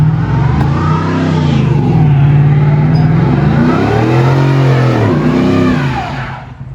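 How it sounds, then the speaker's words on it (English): A 1982 Ford Bronco's engine revs hard during a burnout, loud and close, the pitch swelling and dipping in repeated throttle surges before easing off at the end. "He's probably gonna do a burnout."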